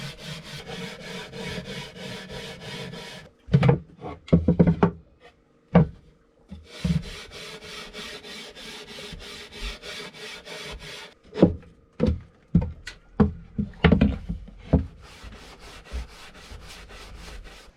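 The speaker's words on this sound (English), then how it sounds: "Only use bronze wool when you're scouring the countertop." A butcher block wooden countertop being scoured with bronze wool, steady close rubbing and scraping strokes running continuously, broken by a pause and a series of sharper knocks and scuffs midway and near the end, with no talking.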